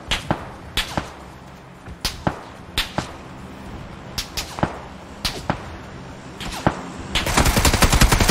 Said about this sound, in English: Somebody shooting from the other side now.